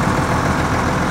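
Gleaner M3 combine harvesters and a red tractor pulling a green grain cart run in a corn field at harvest, giving a steady, loud, close engine drone with no talk.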